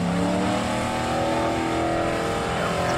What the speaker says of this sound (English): I wanted to share some footage with you guys of drag racing this car.